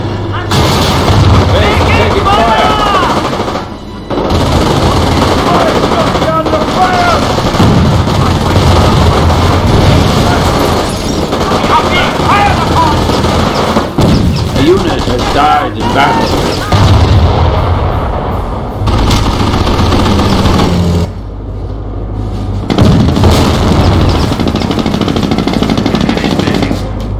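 Battle in Company of Heroes: heavy booming artillery and explosions mix with machine-gun and rifle fire in a dense, continuous barrage, with shouted voices under the din.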